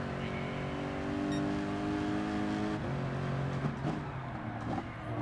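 A race car engine in Gran Turismo Sport holds a steady, loud drone during a race, shifting pitch partway through as the car works around the track.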